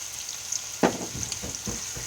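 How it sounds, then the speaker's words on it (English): Brown sugar stirred into a raw burger mixture by hand, giving a few soft scraping and squelching strokes at close range, quiet and without talk. "I'm going to stir that up a little bit"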